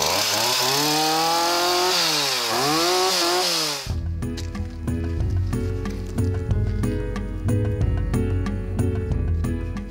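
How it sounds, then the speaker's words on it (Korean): A chainsaw engine revs up and down, then roars into a steady, loud buzzing run with rhythmic pulsing, close by, after being cleaned and repaired. "이제야 시원하게 돌아가는 전기톱이다."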